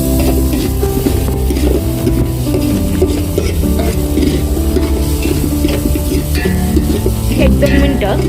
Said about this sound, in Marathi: हे सर्व साहित्य हलवून घेऊ जेणेकरून करपणार नाही याकरता हे सर्व साहित्य हलवून घ्यायचे।